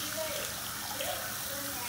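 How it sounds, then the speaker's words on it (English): Hands being washed under a running tap, the water a steady close splashing flow throughout, a voice faint underneath. "You have to wash your hands before you eat."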